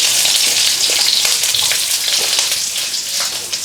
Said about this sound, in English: in the pan, a little bit of oil, in with some onions